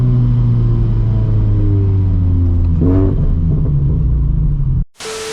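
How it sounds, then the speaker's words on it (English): A built turbocharged FR-S with about 400 horsepower drives along, its engine droning steadily loud and rising in pitch as it accelerates, with a brief turbo surge near the middle before the sound abruptly cuts out. "You guys could hear the turbo noises and see how nasty this car really is."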